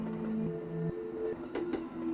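Faint rumbling train ride in a horror adventure game, with a low steady rolling drone, sustained tonal hums and a couple of soft clacks near the end, heard alone.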